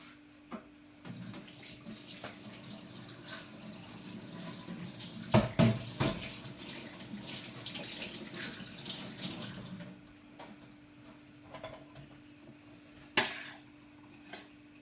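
Tap water runs steadily into a kitchen sink while fresh ginger is rinsed, a continuous broadband splash with a few brief clunks midway, then quieter trickling near the end.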